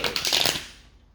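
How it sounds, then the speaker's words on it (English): A quick riffle of tarot cards shuffled close by, a dense papery flutter that fades out, with no voices. "I'm gonna shuffle these cards."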